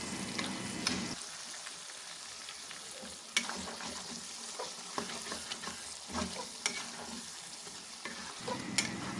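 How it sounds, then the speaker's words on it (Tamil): Drumstick pieces being sautéed in a pan for Chettinad chicken gravy, a steady sizzle and frying hiss with repeated spoon stirring and scraping clinks against the pan. "முருங்கைக்காயோட பச்சை ஸ்மெல் போகிற வரைக்கும் நம்ம நல்லா வதக்கி விடலாம்"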